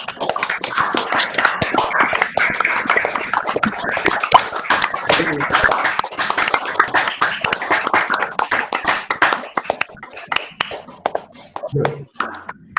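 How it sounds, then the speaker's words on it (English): Conference participants clap over their open microphones, a dense patter of many hands that runs steadily for most of the stretch, then thins to scattered individual claps and taps near the end. "let's again give all of them a huge round of applause"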